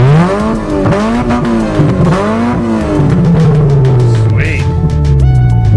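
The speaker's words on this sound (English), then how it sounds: "let's see how she sounds. She's already got no exhaust." A Mazda car with no exhaust revs repeatedly nearby in loud, rising and falling bursts, then drops to a lower, harsh running note.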